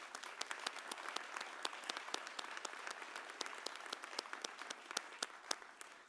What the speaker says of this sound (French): Je vous invite aussi à donner une bonne main d'applaudissement aux personnes qui ont donné de leur temps et de leur énergie